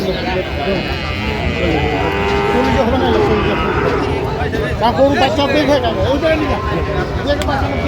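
Sahiwal cattle lowing at a busy cattle market, several drawn-out moos close by rising above a constant babble of crowd chatter and nearby voices.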